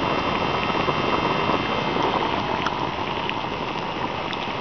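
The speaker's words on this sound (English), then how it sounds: "it's just coming to a boil" Water bubbles and seethes at a rolling boil close by on a biomass gasifier stove, a constant crackling hiss over the steady hum of the stove's fan.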